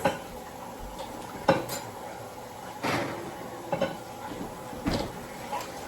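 A cake pan clanks into an oven amid scattered kitchen knocks: several sharp metallic clatters and thumps, fairly close, spaced a second or so apart with quiet gaps between, no voices.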